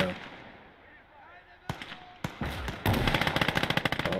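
Rapid machine gun bursts in a wartime multiplayer conquest shooter game, sharp repeated cracks building into a steady rattling stream near the end, mixed with scattered explosive thumps and a voice talking over it.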